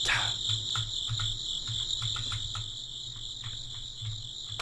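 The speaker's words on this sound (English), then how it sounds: "I hear crickets." Crickets chirp outdoors at night by a monastery in a video game, a steady high trill with rhythmic pulses, fairly loud and continuous over a low ambient hum, with no talking.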